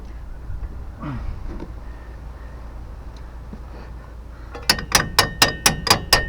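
Hammer strikes on a rusty ball joint of a 2002 Dodge Ram 2500 2WD: about seven sharp, evenly spaced metallic taps, loud and close, after a quiet stretch of faint shop noise.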